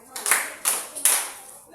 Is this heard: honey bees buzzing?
no